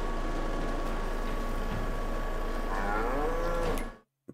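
A cow in the video game Farming Simulator 22 moos loudly, a long drawn-out low call over a steady game background hum that cuts off abruptly near the end.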